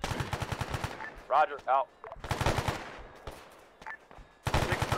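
Gunfire in the military simulation game Arma during a milsim operation, a few rapid bursts of shots between stretches of radio-style talk.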